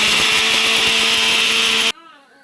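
A kitchen mixer grinder whirs loud and steady as it grinds roasted curry leaves with salt and asafoetida into a coarse powder, then cuts off abruptly near the end, leaving faint residual noise.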